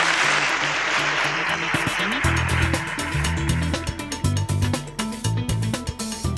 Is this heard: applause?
yes